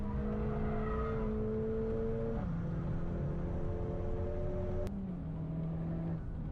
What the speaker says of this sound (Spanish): La diferencia del sonido con este Mercedes AMG, el clase